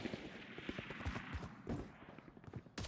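Gunfire in a Valorant esports match, a few sharp shots scattered through the moment at moderate level with game ambience, no voices.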